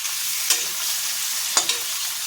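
Spoon stirring fenugreek into moong dal batter in a bowl, two brief scraping strokes heard close up over a steady hiss, with no talking.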